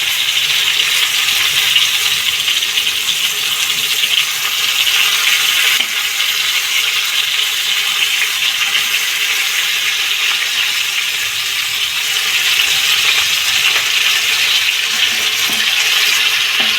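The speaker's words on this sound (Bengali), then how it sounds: "এবার ভাজাগুলো মিশিয়ে দিচ্ছি।" Fried pointed gourd (potol) being stirred in a pan, a steady bright sizzle close by with occasional scraping and clinks, continuing evenly without speech.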